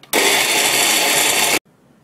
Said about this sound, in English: Now add a whole cup of the watery yogurt and blend until frothy.